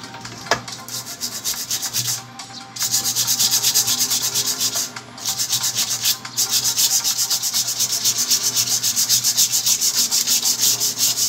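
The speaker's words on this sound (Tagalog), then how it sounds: "papel de liha" Sandpaper rubs steadily across a surface, a close, continuous rasping scrape with brief pauses between passes, testing whether the material can be whitened.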